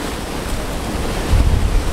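Ocean surf washing around rocks at high tide on an Australian beach, a steady broad rush with wind buffeting the microphone and a heavier surge of water near the end.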